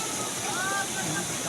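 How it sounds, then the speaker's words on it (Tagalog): Water of the Mantalangaw River flowing down from upstream in a provincial natural setting, a steady close rushing roar of current, with a brief tonal voice-like sound rising over it. "Yan yung agos ng tubig"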